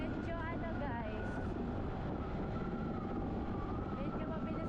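Steady wind-blasted roar of a motorcycle ridden fast at around 60, continuous and loud with no gaps, a voice faintly under the rushing noise.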